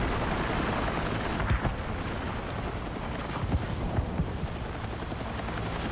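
A stolen helicopter in a video game, its steady rotor drone and rushing wind noise filling the scene at a constant loudness, with a few brief louder bumps midway and no talking.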